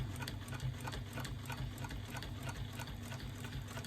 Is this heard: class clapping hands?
no